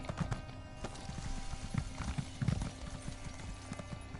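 Rhythmic clip-clop of horse hooves galloping at a steady pace in the video game Elder Scrolls Online, moderately quiet over a constant background hum.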